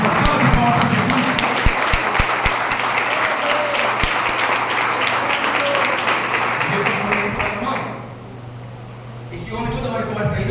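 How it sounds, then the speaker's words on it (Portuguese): A congregation at an evangelical church anniversary service applauds for Jesus, sustained clapping with a few sharp close claps, fading after several seconds as a voice begins speaking. "Uma salva de palmas para Jesus"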